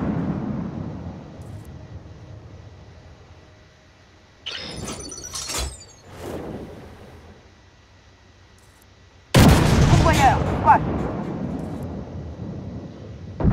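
Incoming tank fire striking the player's vehicle in Armored Warfare during a tier 6 platoon match, a sharp crack and clatter of impacts, then a loud heavy blast that rumbles and decays, with a quieter opening.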